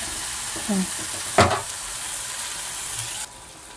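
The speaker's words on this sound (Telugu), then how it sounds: "నేను ఇప్పుడు వంకాయలు వేసానా వంకాయలు కూడా కొద్దిగా మగ్గినాక మనం చికెన్ వేసుకున్నాం" Eggplant, tomato and onion fry in a pan for a chicken and eggplant curry, giving a steady close sizzle with a sharp utensil clack from stirring midway.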